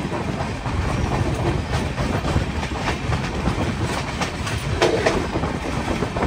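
Humsafar Express passenger train running at cruising speed near Delhi, heard from inside the coach as a continuous loud rumble with rhythmic wheel clatter over rail joints, steady throughout and without talk.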